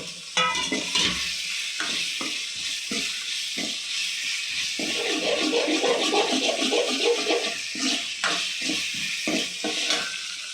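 Garlic and chili fry in a pan for appalam kolambu, a continuous close sizzle broken by stirring knocks and scrapes of a utensil against the pan, no voices.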